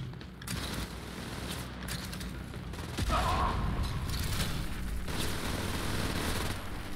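Sustained gunfire from a boss in the shooter Wolfenstein: Youngblood, a dense continuous barrage with no talk over it that grows louder partway through.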